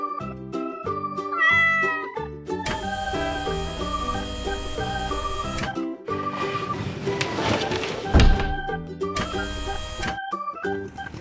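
Cartoon cat meows set over bright, busy children's music, with a few tonal meow-like calls standing out from the melody; no talking.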